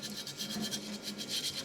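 A brush scrubs rust off an old part from a car that has sat unstarted for over 13 years, making steady, rhythmic rasping strokes close up, with no voices.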